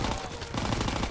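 Gunfire in Call of Duty WW2 crackles in a dense, rapid stream of shots, loud and continuous through the whole short moment.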